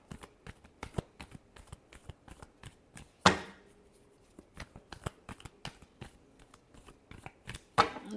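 Tarot cards shuffled again and again in quick riffling bursts, each a short crisp flutter with brief pauses between, close and fairly quiet, with two louder sharper riffles standing out.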